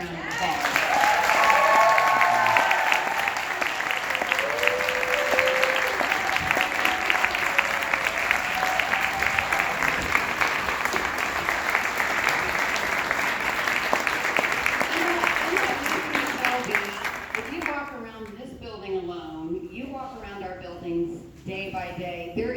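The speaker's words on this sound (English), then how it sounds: "I think Caitlin deserves a huge round of applause." An audience at a high school faculty fashion show gives sustained, loud applause for about eighteen seconds, then the clapping drops away and a voice begins speaking.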